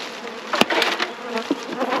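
Honey bees buzz around an open hive while nucs are transferred into full size hives, a dense close drone with individual bees whining past, plus a sharp click from the equipment.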